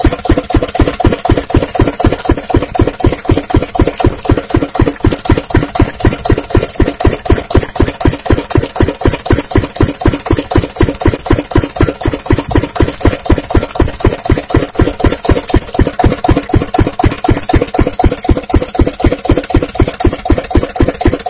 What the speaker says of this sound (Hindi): तो ये भी एक फील्ड मार्शल का इंजन है, 2 व्हील वाला इंजन है, 8 HP का इंजन है वो